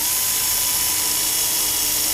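Steady, continuous high-pitched whir of a power drill working through mild steel without cutting oil, loud and close, holding an even tone throughout with no pauses.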